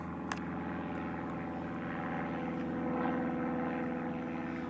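A steady, droning propeller hum from biplanes flying overhead on a countryside walk between Staplehurst and Headcorn, continuous and moderately distant with no talk.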